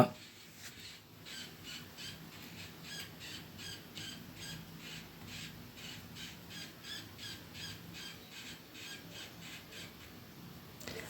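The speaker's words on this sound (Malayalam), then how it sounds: "ഒരു പത്ത് കിളികളടങ്ങിയ ജമ്പ് ഫിഞ്ചസിൻ്റെ ഒരു ബാച്ചാണ്" A flock of about ten jambu finches in a sale cage gives rapid, repeated squeaky chirps in a steady pulsing rhythm, faint and close, over a quiet background hum.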